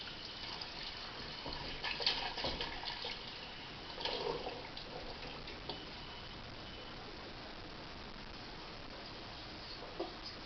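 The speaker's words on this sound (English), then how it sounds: "Going to add the water to it and everything." Water runs and pours into a pot of sausage and potato soup, a soft, steady splashing with faint clinks, loudest in the first few seconds and fading to a quiet trickle.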